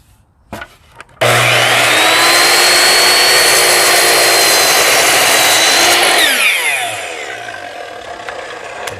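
A power saw cuts angled 22.5-degree cuts in wood. It starts abruptly with a loud, sustained whine that rasps through the workpiece for about five seconds, then the pitch drops as the blade spins down.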